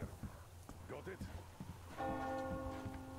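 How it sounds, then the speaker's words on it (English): A church bell rings in the video game Metro Exodus, its sustained ringing tone entering partway through over a background of scattered game noises and clatter. "Do you hear that bell?"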